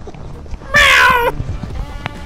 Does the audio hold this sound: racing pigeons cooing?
no